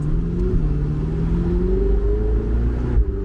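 A Ferrari 488 Spider engine drones steadily while driving, with pitch rising gradually as it revs, a loud, close, continuous rumbling hum with no talking.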